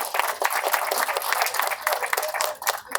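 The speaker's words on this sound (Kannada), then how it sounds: "ಅವ್ರಿಗೆ ನಿವೃತ್ತಿ ಜೀವನದ ಚಪ್ಪಾಳೆ ಮುಖಾಂತರ ಶುಭಾಶಯ ಕೋರೋಣ" An audience at a retirement function claps for the retirees, with many hands producing a lively crackle of individual claps that holds steady throughout and no speech on top.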